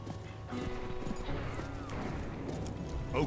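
Horse hooves clip-clopping in the video game Call of Juarez: Bound in Blood, a steady galloping beat with occasional whinnies over a dense game soundscape, with some faint talk in the background.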